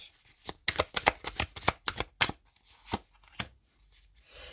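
Tarot cards being shuffled and drawn by hand, a quick run of crisp riffling snaps and flicks, close and fairly loud, thinning out toward the end with a few last card slaps and no talk.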